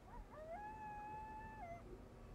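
A single dog howl from the video game 7 Days to Die, a long wavering tone rising, holding and falling away, faint and alone without speech.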